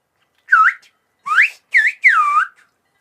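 Whistled-language demonstration: four distinct whistled phrases with gliding, speech-like pitch contours, separated by short pauses, clear and close with no background.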